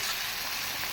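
Chicken sautéed with sugar in a pan gives off a steady, dense sizzle with an even hiss and no pauses.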